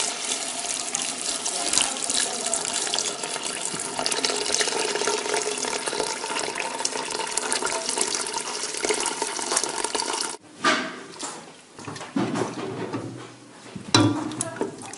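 Hot water pours steadily from a tap into a pot for chicken broth in a kitchen, a continuous close rushing splash that stops after about ten seconds, followed by a few quieter handling sounds.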